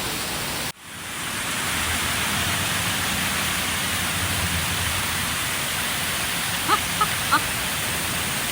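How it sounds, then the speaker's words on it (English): An artificial indoor waterfall at the National Aquarium in Baltimore pours with a loud, steady broadband rush that fills the space after a brief cut. A few faint taps sound near the end. "there is a pretend waterfall that is amazing"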